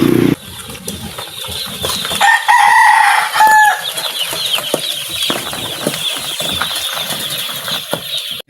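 Chicks cheep and peep in a rural Mindoro farmyard. Several high chirps sound close, with rustling and fluttering wings. Other bird calls sound from around them, and there is no talk.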